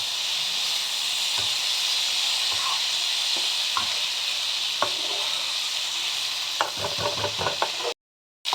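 Mixed winter vegetables with tomato, cumin powder and chili powder sizzle steadily in a hot pan, a close continuous hiss broken by occasional clinks and scrapes of stirring, ending in a brief silence.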